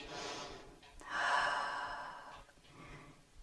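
Slow, audible breaths during an intermediate fat-burning yoga session: a soft inhale followed by a longer, stronger exhale, close and unhurried, with no talk.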